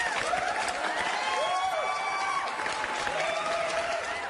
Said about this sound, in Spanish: vamos a darle el aplauso